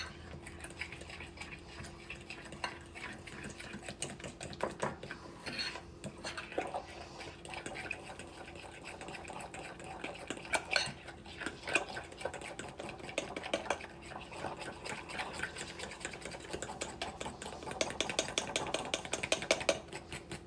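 Milk and powdered sugar icing being stirred together in a bowl, giving a close, steady scraping and clinking of the utensil against the bowl, with busier strokes toward the end and no talking.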